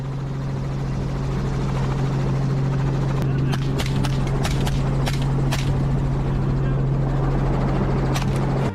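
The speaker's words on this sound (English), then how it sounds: "hearing protection to guard against the helicopter's noise" A hunting helicopter's rotor and engine give a constant heavy, droning hum, close and loud throughout, with intermittent sharp clicks and knocks on top.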